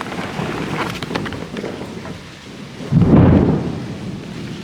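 Thunderstorm with rain and wind, a low rumble of thunder swelling loudly near the end over steady rain hiss and gusts, no voices.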